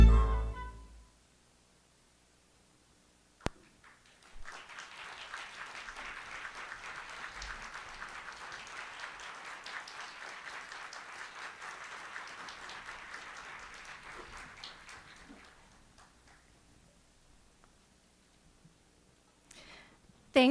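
An audience applauds the Morelli Quintet at a student success summit, a steady wash of clapping that swells after a sharp opening knock, holds for about ten seconds, then thins out and fades.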